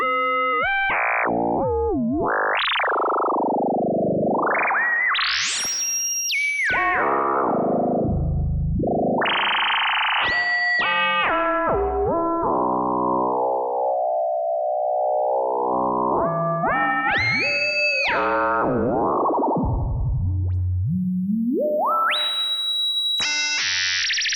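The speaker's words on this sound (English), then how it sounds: "Using the Leapfrog filter as a sine wave oscillator." A Leapfrog filter synth module run as a sine wave oscillator sweeps through gliding, warbling tones, rising and falling pitches with buzzy harmonic overtones, loud and continuous with no voice.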